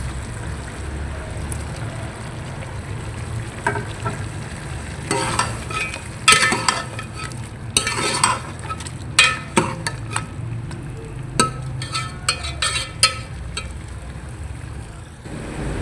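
Chopped tomatoes go into frying village-style aloo gosht, with a steady sizzle under repeated stirring scrapes and clatters of a spoon against the pot, close and busy.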